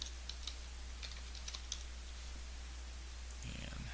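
Someone types a short search term on a computer keyboard: a few quiet, scattered key clicks over a steady hum, with a short rustle at the end.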